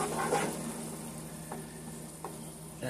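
Apricot preserves cook down in melted butter in a pan over medium-high heat, making a steady soft sizzle with a few faint stirring scrapes, close and alone.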